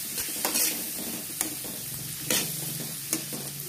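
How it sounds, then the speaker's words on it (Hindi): Chopped onions fry in butter with cumin in a pan, giving a close, steady sizzle broken by several clattering scrapes of a stirring spoon, with no voices. "देखिए प्याज को हमने डाल दिया है, अब इसको अच्छे से भून लेंगे।"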